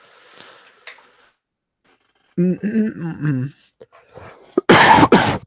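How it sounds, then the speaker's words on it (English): A single sharp cough blasts close into a microphone, loud and broadband with a harsh burst, following quieter throat sounds and a brief hum-like vocal passage. "Sorry, I just coughed into the microphone."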